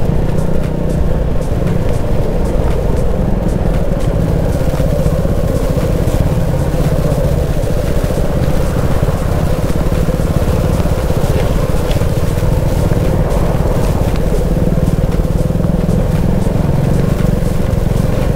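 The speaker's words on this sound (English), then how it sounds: "Look at this traffic jam." Heavy stop-and-go traffic of cars and motorcycles on a forest road at Bandipur, heard from a motorcycle as a continuous loud engine drone and idling rumble throughout, with no clear talk.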